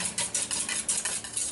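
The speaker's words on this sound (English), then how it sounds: "Kind of lift it up and over, just like you're beating eggs." Eggs being whisked in a bowl until foamy, a quick steady rhythm of wet beating strokes with light clinks of utensil against the bowl, close and moderately loud with no talking.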